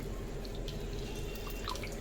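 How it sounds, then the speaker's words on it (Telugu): Freshly washed flowers have the water drained off them, giving a faint, close trickle with scattered drips over a low steady background. "ఈ పూలనేది నీట్గా కడుక్కోండి కడుక్కునేసి నీళ్ళు మొత్తం అనేది తీసేసేయండి"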